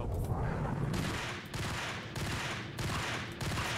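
Gunfire in the video game Max Payne: dense, loud bursts of shots in rapid succession throughout, with brief dips between volleys and no talking.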